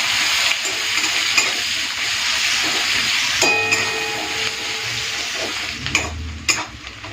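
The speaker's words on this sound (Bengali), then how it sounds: "পেঁয়াজটা দেওয়ার পরে দু তিন মিনিট একটুখানি লাল করে ভেজে নিয়েছি" Chopped onions sizzle steadily in hot oil in a pan for a fish kalia, with scraping stir strokes and a few clinks of a utensil against the metal, close up and without talk.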